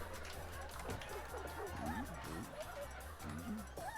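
Dog barking in the horror-comedy video game Neighbour Back From Hell, sharp yelps and barks repeating over a steady low game background hum with a voice talking over it.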